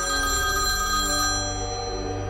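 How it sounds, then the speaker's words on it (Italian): A telephone rings with an incoming call in the early morning, a loud steady electronic ring that sounds alone and fades slightly toward the end. "Mi arriva un'altra telefonata."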